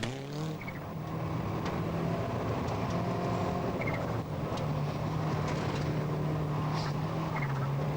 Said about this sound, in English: Airikkala twitching the car through the mist of the forest